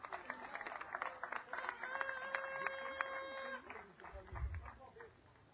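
An audience at a ceremony for the 2022 Vuelta a Guatemala cycling champion claps in a steady burst of applause for several seconds, with a voice speaking over part of it.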